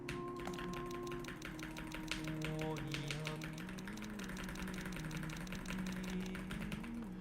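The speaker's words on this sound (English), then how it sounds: "I love how my new keyboard sounds." Typing on a new computer keyboard, a fast continuous run of clicky keystrokes at moderate level, heard under background game music and tones.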